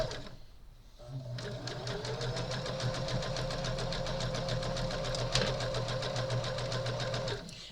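Sewing machine running steadily while stitching a quilt decorated with hearts, a fast continuous mechanical whir with rapid needle clatter that starts after a brief pause and carries on for several seconds, close and fairly loud.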